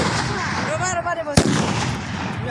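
A single sharp, loud firecracker bomb blast bursts out amid outdoor crowd noise and a faint tonal whine at a temple festival in Assam.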